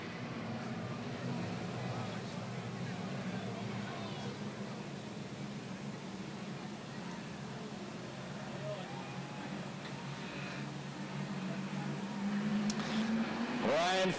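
Race cars coming by at Grundy County Speedway, a steady distant engine drone that swells and grows louder toward the end as the pack approaches, with faint crowd noise in the background.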